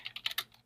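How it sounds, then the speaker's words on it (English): A short run of about five or six keystrokes on a computer keyboard, entering a command, close and moderately soft, with nothing else heard. "and type in the command"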